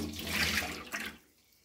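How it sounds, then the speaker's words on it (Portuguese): Tap water runs into a sink to rinse a Tramontina Vancouver 6-litre pressure cooker, a steady splashing flow that cuts off after about a second, with no talk. "Agora vai passar uma aguinha."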